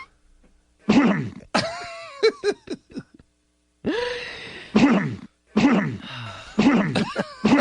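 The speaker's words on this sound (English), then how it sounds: "And then here's just the cough." A person coughs repeatedly in short harsh bursts, several separate coughs with brief pauses between them, close and fairly loud, with some throat clearing and groaning mixed in.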